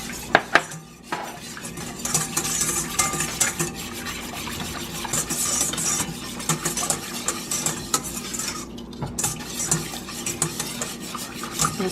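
A whisk scrapes and clinks steadily against a metal pot while stirring a macaroni and cheese sauce, with a soft sizzle underneath and quicker rattling bursts near the end.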